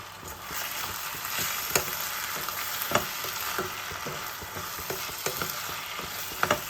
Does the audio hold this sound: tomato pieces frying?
yes